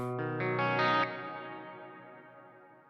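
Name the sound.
bass guitar through hall reverb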